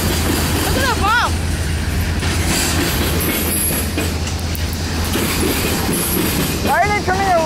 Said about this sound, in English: No, it's a regular freight train.